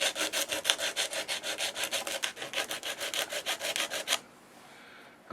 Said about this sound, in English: maybe we need to take some sandpaper